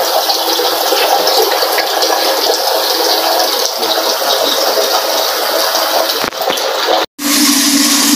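Water gushing steadily from a kitchen tap boosted by a water pressurizer, a loud continuous rushing flow with a brief cut near the end before it resumes.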